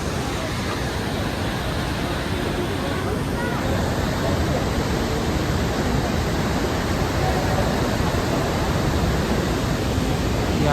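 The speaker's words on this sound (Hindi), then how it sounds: "ये देखो, ये सरस्वती नदी है।" The Saraswati river rushes past as a dense, constant roar of turbulent water, loud and close, with no break or change throughout.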